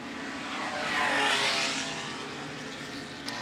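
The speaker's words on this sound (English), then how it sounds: "Dowling coming up well in number 10, qualified third, the 1938 Australian Grand Prix winning car" A 1938 Australian Grand Prix–winning vintage race car roars past at a historic circuit race, its engine note rising to a loud peak near the middle and then receding, with no voices.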